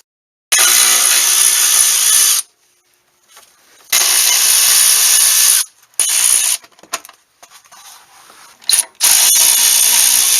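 Cordless power tool driving out the engine cover screws on a 13th-generation Ford F-150, several loud, close whirring bursts of a couple of seconds each separated by short pauses, with no talking.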